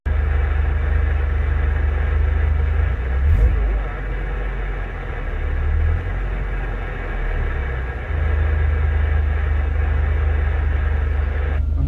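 A vehicle engine idles at a traffic light beside a noisy base, a steady low rumble with slight shifts in level running throughout, loud and close, with faint voices mixed in.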